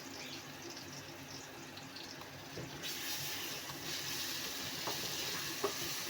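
Ginger garlic paste frying in oil with browned onions for a minced meat and pea curry, a steady hiss of sizzling that swells in the second half, with occasional stirring clicks and no talking.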